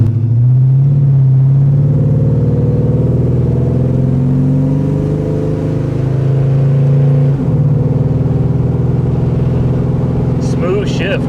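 A 1940 Chevy hot rod engine drives along with a loud, steady low rumble, its pitch rising, then dipping sharply around a gear shift before settling back into a smooth drone, with a brief faint sound near the end.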